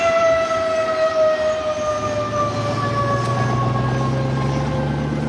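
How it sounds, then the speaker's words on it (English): An air raid siren sounding at noon in Hanoi, Vietnam, a long sustained wailing tone, loud and steady throughout with no voices. "An air raid siren is still used to mark the noon hour in Hanoi."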